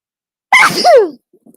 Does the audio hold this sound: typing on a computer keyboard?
no